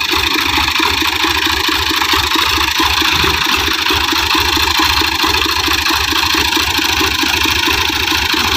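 A Fiat tractor, model 15, idling steadily with a loud, rhythmic diesel chug and a constant low throb, close and unbroken throughout.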